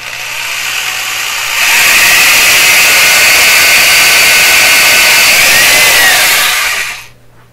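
Power drill boring into the cabinet of a 1928 RCA Victor Model 28V radio, a steady loud whine that starts after a quieter hum and runs about five seconds before winding down, with no talking.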